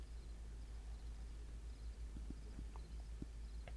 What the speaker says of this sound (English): Now this is definitely a horse.